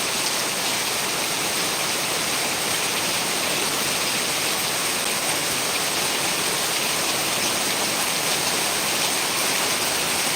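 A sustained downpour of heavy Kerala rain roars evenly and loudly for several seconds, a dense unbroken wash of falling water with no talking or pauses.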